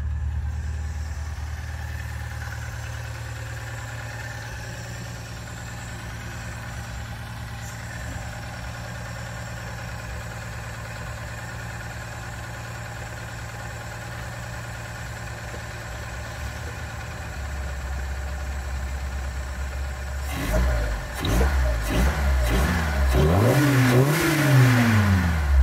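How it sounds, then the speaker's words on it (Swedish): A 1965 Volvo Amazon engine warming up outdoors idles with a steady, low, close rumble, then revs repeatedly near the end in rising and falling surges. "Och här håller vi på och varmkör."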